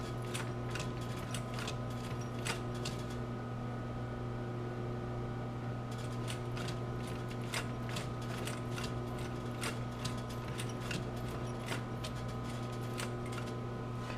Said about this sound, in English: I am sewing through the stiffener. So it's soft enough to sew through.